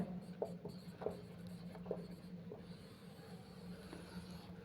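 Chalk or marker writing on a board during a chemistry lesson on quantum numbers, heard as a run of soft scratchy strokes and taps at an even pace over a low steady background hum, with no talking.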